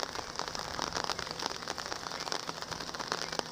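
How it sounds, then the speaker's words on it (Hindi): Steady rain pours down outdoors on a farm where ducks are kept, a dense, even patter of drops on surfaces with no pauses and no talk. "बिल्कुल जनाब लगातार बारिश जारी है।"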